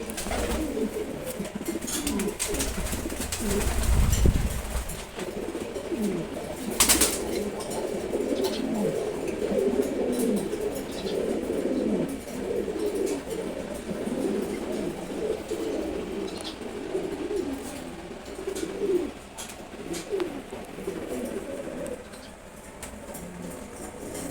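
Red checkered pigeons coo steadily and close by, their low burbling calls overlapping for the whole stretch, with a louder thump of movement early on and faint voices in the background.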